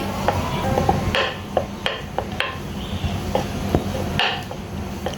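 Small luchi dough balls are rolled flat with a rolling pin in a home kitchen, making soft irregular knocks and taps of wood against the board in an uneven rhythm.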